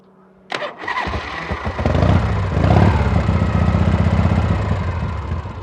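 A 1978 Harley-Davidson FXE Super Glide engine cranks and fires, then revs up and settles into a loud, throbbing run with a rough exhaust rumble.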